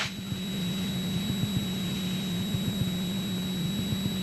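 A light aircraft engine drones steadily from inside the cockpit during a training flight at 1,500 feet over a practice area, a constant close hum with no break.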